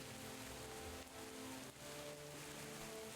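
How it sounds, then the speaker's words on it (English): Steady rain ambience in the video game Guild Wars 2 hisses softly and evenly throughout, a faint continuous patter with a low hum underneath and no voices. "I love the sound of the rain."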